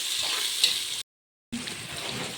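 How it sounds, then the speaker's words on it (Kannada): Onions and tomatoes frying in a pan as a tempering with whole spices, a steady close sizzle that cuts out briefly midway and then resumes. "ಚೆನ್ನಾಗಿ ಫ್ರೈ ಮಾಡ್ಕೊಳೋದು."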